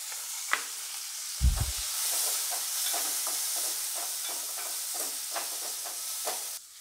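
Shallots and a small onion sauté in a pan for egg curry, a steady hissing sizzle with soft repeated stirring scrapes and one brief low knock near the start, with no voices.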